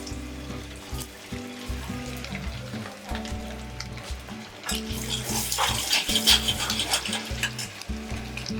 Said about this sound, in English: Once the oil is hot, you can put all the eggs here just to shallow fry them.